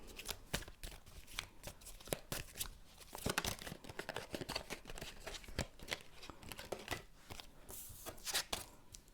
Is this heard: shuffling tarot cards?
yes